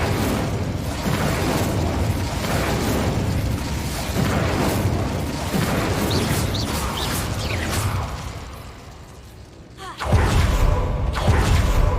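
Incendio fire spell in Hogwarts Legacy roars as a long, dense, crackling rush of flame with rumbling bursts, briefly easing near the end before surging back loudly.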